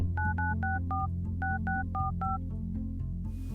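Telephone keypad dialing tones in a Google Voice calling service, about twelve short dual-tone beeps in quick groups, clear and steady over a low background hum, then quiet.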